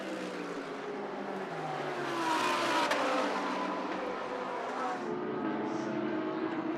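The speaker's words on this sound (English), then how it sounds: "Panis in the number 26 Audi, followed by Barnicoat in the McLaren 720S GT3" GT3 race cars, including a McLaren 720S GT3, roar around the Indianapolis circuit in a steady, loud engine drone that swells midway as cars pass nearby, with no talk over it.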